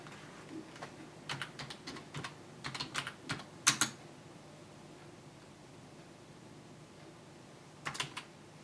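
Rapid clicking on a computer keyboard, several close, quick bursts of keystrokes in the first half, then a pause and one last short flurry over a faint steady hiss.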